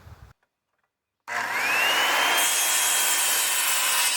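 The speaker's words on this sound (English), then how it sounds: "So I'm going to cut two 1x4," A power saw cuts a 1x4 board of home-milled wood to 44 inches, starting suddenly after a short silence and running as a loud, steady, rasping whine that rises in pitch as the blade bites through the timber.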